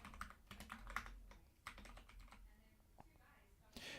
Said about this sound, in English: I think what we'll do is type this into